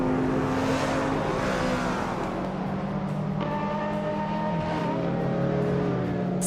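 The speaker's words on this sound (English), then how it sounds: "Maya is driving a 2020 Hennessy Venom F5, same as Gina Jones." A 2020 Hennessy Venom F5 in a racing video game, its engine droning loud and close with shifting pitch as it revs and changes gear, other cars humming alongside.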